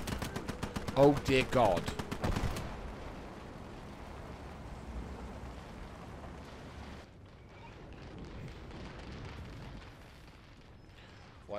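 Artillery fire in the World War II game Call to Arms Ostfront, a burst of loud booming shots followed by a long rumbling wash of distant fire, with a man exclaiming over it.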